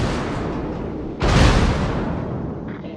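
Ship guns firing blind through smoke in a naval combat game: a single loud booming blast erupts over a steady rumbling background, then slowly decays.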